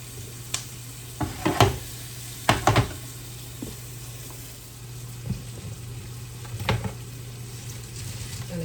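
Cabbage drops into a hot pan and sizzles, with a southern-style cooking setting, bringing several sharp crackling bursts and clatters of stirring over a low steady hum and a quieter continuous fry.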